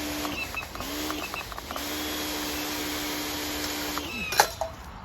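A pressure washer sprays a target, giving a steady, loud hiss with a humming pump tone that drops out and restarts a few times, then a brief sharp spatter near the end.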